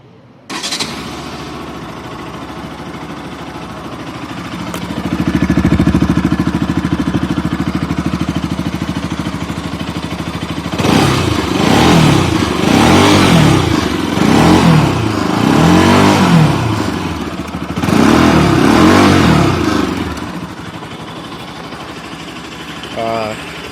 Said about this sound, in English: Guys, here's the sound.